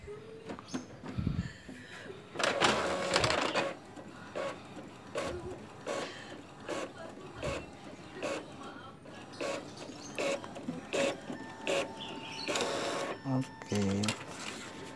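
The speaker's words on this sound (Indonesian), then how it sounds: "kita cetak lagi" An Epson L3110 inkjet printer runs a photocopy of an ID card, with whirring carriage passes, clicks and paper-feed clunks in an uneven mechanical rhythm while a person talks now and then.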